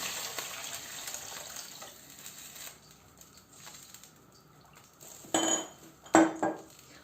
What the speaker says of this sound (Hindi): अब इसमें मैं शामिल कर रही हूँ जी 4 गिलास तक पानी।